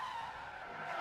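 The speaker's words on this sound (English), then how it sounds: "that's the moment of impact. And the car leaving a bit of paint on that barrier." F1 race car skidding in the F1 Manager 24 video game, a steady, faint tire squeal holding a tense, whining pitch for about a second, with no impact clearly audible.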